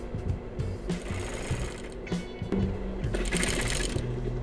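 Sewing machine stitching a strap for a large bag made from recycled jeans, a close, steady mechanical whirring run in short bursts with brief pauses between them.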